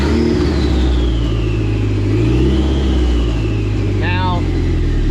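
Dodge SRT-4 car engine revving as it shifts up through the gears and back down, with a fault that makes third gear pop out. The engine drones loud and close and rises and falls with each shift, while someone talks over it.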